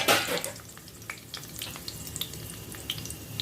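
Brinjal pieces frying in oil in a pan, a soft continuous sizzle with scattered light clicks and scrapes of stirring, louder at the start.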